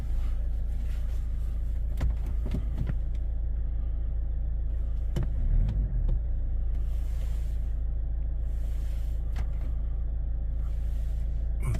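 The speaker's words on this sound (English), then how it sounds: "We'll start the car." A Ford Kuga with an engine malfunction warning fault idles with a steady low rumble, a few sharp clicks and brief mechanical bumps punctuating the drone, close by and without talk.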